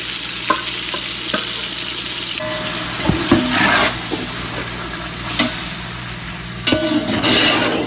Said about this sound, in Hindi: अब जो है हम अपने चिकन को जो है भूनेंगे।